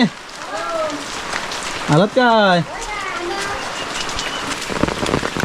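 Heavy monsoon rain in Sangameshwar pours in a steady close hiss while people talk over it, with a brief bird-like whistling chirp partway through.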